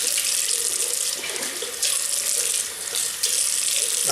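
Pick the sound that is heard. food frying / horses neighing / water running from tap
water running from tap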